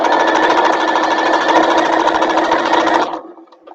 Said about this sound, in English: make sure you're sewing in a nice straight line and that everything matches up